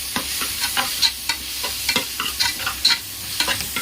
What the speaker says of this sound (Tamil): இதையும் நல்லா வதக்குவோம்